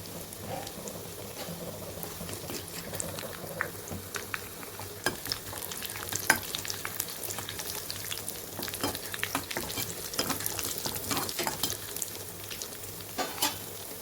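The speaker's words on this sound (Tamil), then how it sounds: "இதெல்லாம் தாளிக்கும் போது இந்த ஜீரகம் இந்த மெத்தேடில் தாளிக்கும் போது" Cumin seeds tempering in hot oil for a village-style sambar make a steady close sizzle with crackling pops and occasional scraping stirs throughout.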